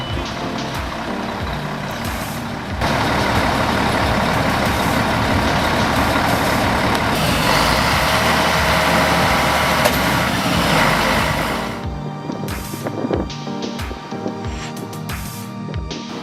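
A heavy-duty roadside rescue crane works to lift a stuck heavy vehicle off a road, giving a loud, steady truck engine rumble with hissing and clanking; the roar drops away near the end, leaving scattered knocks and thumps.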